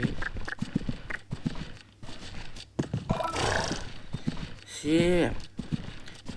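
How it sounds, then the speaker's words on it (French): A horse moving from a gallop toward an extended gallop, with soft rhythmic hoofbeats, breathing and snorts under wind noise, a brief louder blowing sound near the end. "on va voir si on peut aller au galop allongé"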